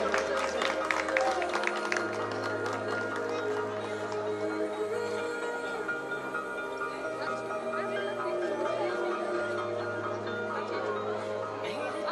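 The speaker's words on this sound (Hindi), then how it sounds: "जोरदार तालियां हो जाए निशा जी के लिए।" Applause for the first runner-up at a fashion week grand finale, a steady wash of clapping and crowd noise that carries on evenly throughout, set against loud background music with a low pulsing bass.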